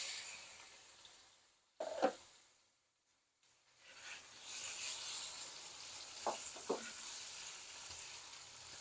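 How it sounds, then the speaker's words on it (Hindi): Chicken fries on high heat in a pot, sizzling faintly with stirring scrapes and a couple of louder spatters, briefly dropping almost silent before the steady hiss returns. "चिकन को भी थोड़ा सा फ्राई करेंगे।"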